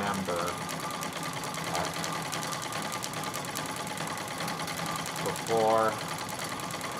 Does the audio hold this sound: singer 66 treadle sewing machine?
yes